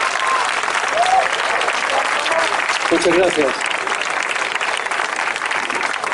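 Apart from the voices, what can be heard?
audience applause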